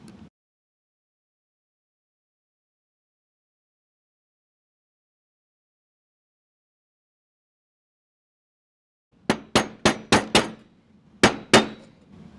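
Parts being knocked out while an airsoft M4 gearbox is taken apart for an Inferno Gen 2 install: after a long silence, a quick cluster of sharp metallic taps and clinks, close and loud, then two more knocks.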